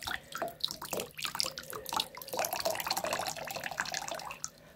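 Liquid trickling and spattering into a diaper, a continuous irregular pour with small splashy drips, fairly faint and close, with no talking.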